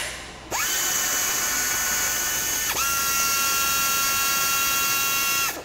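A tapping machine cuts 6-32 threads in aluminum, starting with a sharp whine that settles into a steady high-pitched drone, briefly dips and restarts midway, then runs on before stopping near the end.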